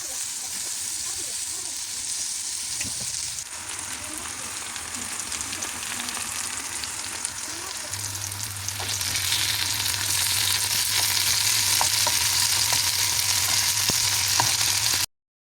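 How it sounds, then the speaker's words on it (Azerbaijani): Chicken pieces fry in a little oil in a pan, a continuous sizzle and crackle that grows louder and denser midway, with occasional stirring clicks and no talking. "Ətlər qurutmadan öz suyunda gözəlcə qızardırıq"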